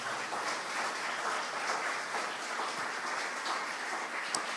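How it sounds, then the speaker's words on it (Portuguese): Church congregation applauding, a dense steady wash of many hands clapping at a distance, even and continuous with no speech over it. "Quem crê, dê uma salva de palmas bem forte ao Senhor."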